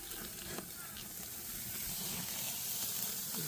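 Steaks sizzle on a charcoal grill, a steady broadband hiss running throughout with faint scattered crackles and pops, fairly quiet and continuous.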